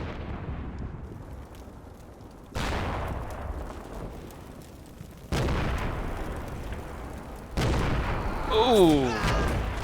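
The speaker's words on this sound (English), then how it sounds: "So we know there's some mortars are going to come" Mortar shells land in a war video game, three loud booming impacts arriving one after another, each with a sudden broadband blast and a long rumbling tail, while someone talks briefly and reacts near the end.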